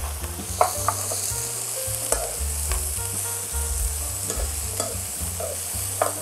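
Shishito peppers stir-fried with minced garlic in oil, giving a steady loud sizzle close by with frequent clinks and scrapes of a spoon against the pan throughout.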